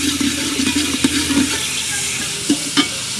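Onions brown in a hot pan with a steady close sizzle, broken by a few soft clinks and scrapes of stirring.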